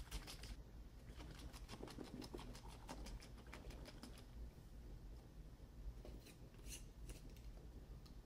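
Tahini dressing is shaken hard in a glass mason jar, a rapid rhythmic rattling and sloshing in quick bursts, faint and close with no voices.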